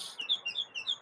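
A pet mockingbird chirps in short repeated bright notes, about six quick calls in a steady rhythm, close and clear with no talk.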